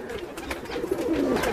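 Fancy pigeons such as Lall Ambalsare and Lall Chapdar cooing in a low, murmuring rumble, several birds close by with soft overlapping calls and a faint background hiss.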